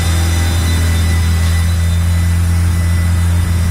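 A turbocharged Honda D16 engine holds a steady, loud high idle near 3000 rpm with a big vacuum leak, a constant droning hum that stays level throughout without revving.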